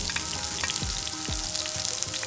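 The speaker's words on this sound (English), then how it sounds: "saute the veggies in this, and we're going to go in with our garlic, our onions and scallion" Garlic, onions and scallions sautéing in a hot pan, a dense close sizzle with spitting crackles throughout, no voices.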